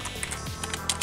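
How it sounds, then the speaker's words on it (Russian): Rapid clicking keystrokes on a USB keyboard plugged into an HTC One phone, typed in quick uneven bursts, close up and dry with no voices. "С помощью клавиатуры можно набирать любой текст."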